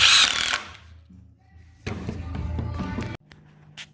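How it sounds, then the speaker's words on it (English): A power driver sinks a screw into soft wood for a shop table project, giving a short whirring burst, a pause, then a longer steady driving run that stops abruptly. "Put a screw in there, and then hit it in."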